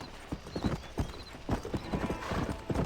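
Hooves clop in quick galloping beats as a horse runs in Red Dead Redemption, loud and close, with faint whinnying.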